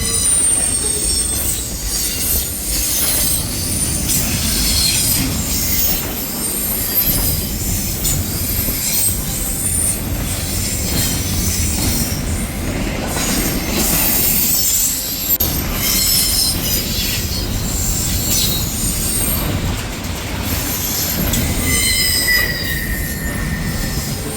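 Train rolling past with loud, sustained squealing wheels, shrill high tones rising and fading over a continuous rumble of railcars, close and steady for the whole stretch.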